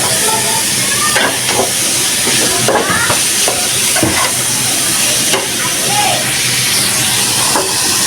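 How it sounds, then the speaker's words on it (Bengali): Steady loud sizzling and hissing of fish frying in oil with spice paste, with occasional stirring scrapes and clinks throughout. "তারপর পুরটাকে হালকা ভাজা করে এটার মধ্যে মাছটা ছেড়ে দিবা"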